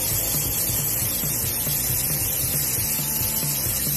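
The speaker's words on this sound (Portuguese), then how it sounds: "agora eu venho com aerógrafo, tá? Com baixa pressão e venho fazendo acabamento." Low-pressure airbrush spraying paint for a hydrographic water-transfer finish, a steady hiss running continuously and evenly at close range with no talk.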